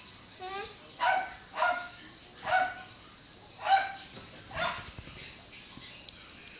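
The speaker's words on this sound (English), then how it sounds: "They started barking again." Several dogs bark in short bursts, about seven yips and barks spaced roughly a second apart, moderately close, with some whimpering tones.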